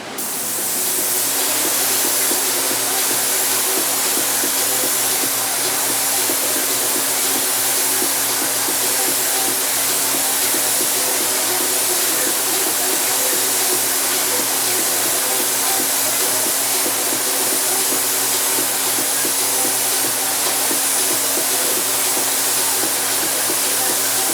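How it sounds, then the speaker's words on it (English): Steady, loud spray-gun hiss from clear coat being applied to a 1966 Mustang in a hot 91-degree shop, continuous and unbroken for the whole stretch with no talking over it. "Time for some clear coat"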